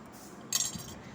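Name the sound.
spoon mixing spices into boiled potatoes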